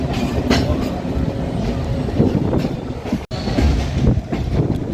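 Kolkata's Chakrarail circular suburban train running steadily, with continuous rumbling wheels and carriage noise and faint clickety-clack on the rails, close and loud throughout, with a brief dropout near the end.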